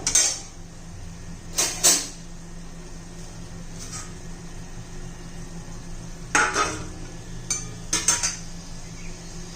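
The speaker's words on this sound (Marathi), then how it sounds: "त्यात आपण आता चार पाच चमचे बेसन घालूया" A spoon scrapes and clinks against a pan while gram flour is added to cooked capsicum, a few sharp metallic taps spread out among quieter stretches of soft scraping, close and moderately loud.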